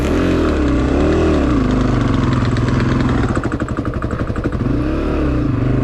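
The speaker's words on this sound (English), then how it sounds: "And I finally kind of get it chugging along, but it's really bad. Riding the clutch, riding the clutch." A Honda CRF250F dirt bike chugs loudly and close during a hare scramble race, its engine labouring with a rough, pulsing thump and wavering pitch as it slowly picks up.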